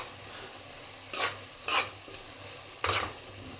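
Cauliflower and dried shrimp curry with turmeric is stirred in a pan over a faint sizzle, three or four distinct scraping strokes at close range with no talk.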